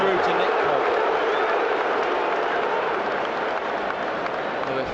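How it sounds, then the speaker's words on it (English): Stadium crowd at a Newcastle United versus Liverpool football match, a dense sustained roar of many voices shouting at the goalkeeper, steady and loud throughout with no gaps. "I thought they were booing, but they're actually shouting shoot, aren't they, to Pope, because Alisson was well out of his goal"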